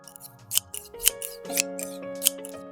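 Scissors snip through a fabric ruffle for a gown makeover, several crisp close cuts in an uneven rhythm, with no talking.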